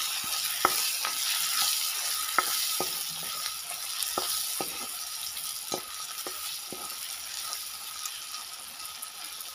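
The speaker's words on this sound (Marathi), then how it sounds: "थोडंसं तेलामध्ये परतून घेत आहे" Washed cauliflower florets sauté in a little oil for a potato rassa bhaji, giving a steady close sizzle broken by sharp spatula clicks and scrapes, with no talk.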